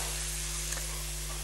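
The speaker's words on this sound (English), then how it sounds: "let that sizzle there" A short stretch of steady sizzling from bacon in a pan, a continuous fine hiss with one faint pop.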